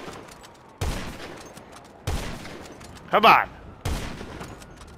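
Gunfire in GTA 5 during a sniper firefight: several sharp, loud shots strike at intervals, one louder close burst in the middle, with a voice shouting briefly over the action.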